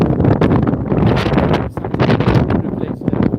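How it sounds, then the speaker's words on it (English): Strong wind gusting across the microphone on the seafront at Sliema, Malta, a loud continuous roar with buffeting bursts and a short dip partway through. "It's quite windy today."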